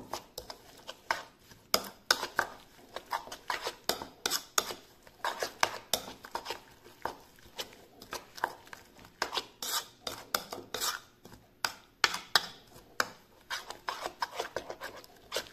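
An egg and other ingredients are mixed together in a bowl, giving a steady, quiet run of rhythmic scraping and rubbing strokes of a utensil against the bowl.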